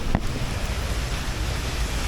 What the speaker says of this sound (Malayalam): ഒടുക്കത്ത മഴ, അവിടെ കിടക്കാൻ പറ്റൂല.